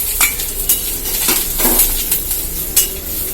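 Mustard seeds, urad dal and curry leaves sizzle and crackle in hot oil in a pan, with spoon stirring and metal clinks against the pan; close, steady frying with a few sharp pops and no talk.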